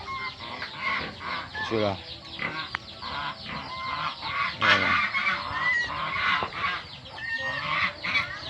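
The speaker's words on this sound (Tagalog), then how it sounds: "Yan yung mga ano, mga gansa, mga pato." Geese and ducks on a farm honk and cluck in a busy, overlapping chorus, with loud squawks near the middle, while a person says a few words.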